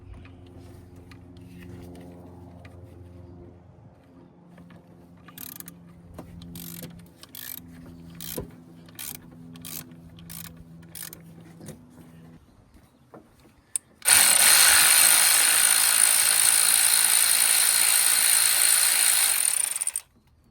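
A hand ratchet loosens a pulley bolt on a 1993 Ford Taurus 3.8 engine, giving a run of rapid, fairly soft metallic clicks. A sudden loud, steady hiss-like roar then takes over for the last several seconds.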